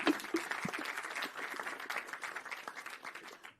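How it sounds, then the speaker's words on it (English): A panel audience at a climate event applauds, a moderate, steady patter of many hands clapping that holds for several seconds before thinning out. "So big applause to this amazing panel."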